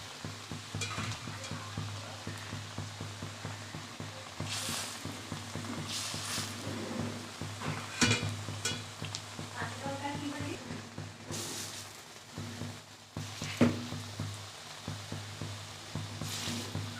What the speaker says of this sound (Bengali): তেলটা গরম হয়ে গেছে, এবার আমি কমিয়ে ভেজে নেব।